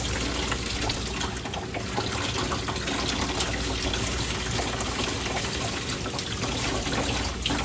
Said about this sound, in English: I'm just gonna cut the water on.